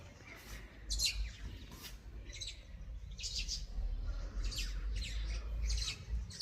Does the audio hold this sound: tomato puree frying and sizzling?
no